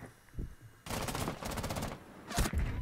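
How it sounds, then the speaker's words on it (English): Bursts of rapid gunfire from a teammate in Rainbow Six Siege: a long loud volley followed by a shorter burst, close and clear, with no talk. "Why the fuck did Wild Potato shoot you?"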